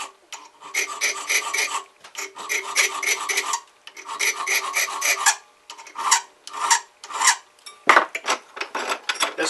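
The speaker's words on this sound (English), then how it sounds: "With the file. Give the epoxy something to grab onto." A hand file rasps across a surface to roughen it for epoxy, giving close, crisp scraping strokes in quick bursts with short pauses between groups, and no talk.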